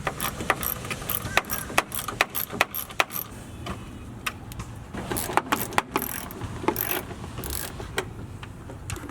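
Bolts are worked loose from a Toyota Tacoma grille assembly, with scattered close metallic clicks, taps and clinks of tools and hardware arriving irregularly over a steady background, no talk.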